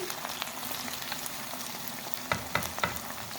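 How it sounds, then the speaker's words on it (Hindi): Chicken nuggets fry in hot oil over a medium flame, giving a steady close sizzle with a few louder pops and stirring clicks near the end. "मीडियम फ्लेम पर हमने फ्राई किया।"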